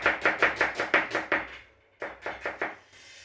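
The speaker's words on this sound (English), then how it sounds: "All these onions are sliced." A knife slices through onions on a board at home in quick rhythmic chops, about seven cuts, a short pause, then five more, close and crisp with no talking.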